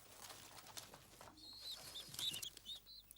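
Pigeons being fed grain and grit give soft, faint coos and chirps along with brief wing flutters and small scuffling sounds.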